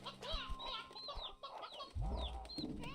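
Hens cluck and squawk from a television in Slime Rancher 2, a busy overlapping chorus of chicken calls with a low burst partway through, fairly close and without talk.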